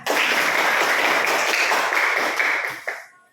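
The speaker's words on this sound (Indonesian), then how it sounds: "Oke, tepuk tangan." A class of students applauding together, a dense burst of close clapping sustained for about three seconds before tapering off.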